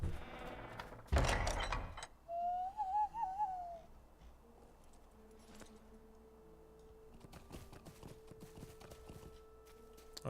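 Horse hooves clip-clop softly in the video game LotRO, a short run of steps followed by a faint rhythmic trot, with occasional game sound effects and tones around them; no one talks.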